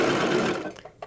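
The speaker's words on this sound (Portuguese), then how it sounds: "vou começar pela lateral e overlocar a barra" An overlock sewing machine runs along the hem of a small pet dress, a short close buzzing whir that slows and stops, ending in a faint tap.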